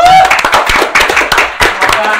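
A few people clap close by during an informal gaming talk show about the EVOS Fams Cup 2023, giving irregular bursts of hand claps with short gaps between them.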